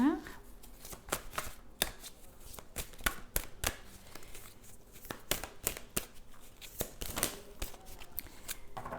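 Tarot cards handled and drawn at a reading table, a steady run of crisp shuffling snaps, slides and flicks close by, with quiet talk running underneath.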